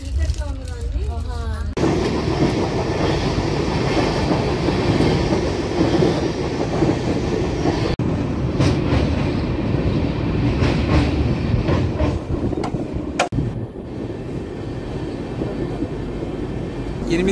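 Pinakini Express pulling into Ongole railway station, heard from aboard: a brief wheel squeal, then a steady, loud rolling rumble and clatter of the coaches, with faint voices in the background.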